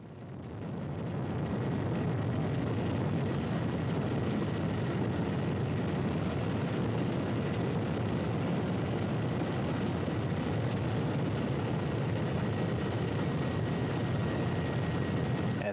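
A Russian search and recovery helicopter flies over Kazakhstan, its engine and rotor making a loud, dense, unbroken roar that fades in at the start and then holds steady throughout, with no voices.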